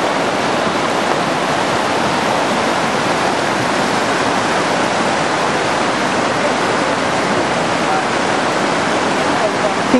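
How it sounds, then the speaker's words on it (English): Steady, dense rush of a flowing stream at Jiuzhaigou, China, close and continuous, like water pouring over rocks, with no pauses. "listen to the quiet sound of the water flowing"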